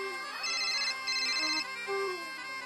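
A mobile phone plays a melodic electronic ringtone, a bright looping tune heard in short repeated phrases, clear and fairly close, with no voices over it.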